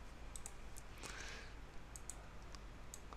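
Faint clicks of keys pressed on a computer keyboard, a few sparse taps spread across a quiet background hum.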